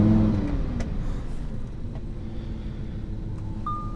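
A car engine catches at the start with a burst, then settles into a steady low idle rumble; a brief high electronic tone appears near the end.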